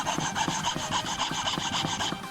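A coconut shell is cut by hand with a saw, producing quick, regular rasping strokes close up, an even back-and-forth rhythm of about five strokes per second with no talking.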